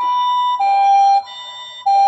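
A toy ambulance minicar with push buttons sounds a loud, clean two-tone electronic siren, alternating high and low notes in a steady hi-lo pattern close to the microphone.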